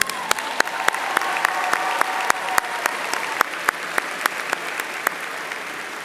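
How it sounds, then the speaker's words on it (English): A room full of people at a university commencement ceremony claps steadily, a dense wash of applause with a few sharp, distinct hand claps standing out near the front. "Let's give him one more round of applause."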